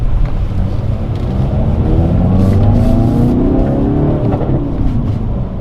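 Hyundai Veloster accelerating hard on a test drive, a loud, continuous engine roar heard from inside the car with rising revs and a brief shift in pitch midway, no talking.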